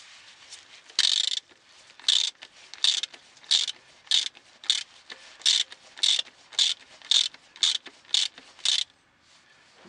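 During engine cleaning, a ratchet socket wrench loosens a fastener in about fourteen even, loud, close clicking bursts spaced under a second apart, with a rasping pawl sound and no talk.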